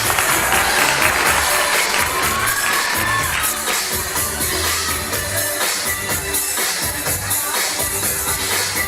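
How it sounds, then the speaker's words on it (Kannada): Loud, continuous applause and crowd cheering from an audience at a kids' annual school function, with children shouting and a steady roar of clapping throughout. "ಪ್ಲೀಸ್ ಚಪ್ಪಾಳೆ ಬರಲಿ, ಪ್ಲೀಸ್ ಚಪ್ಪಾಳೆ ಬರಲಿ."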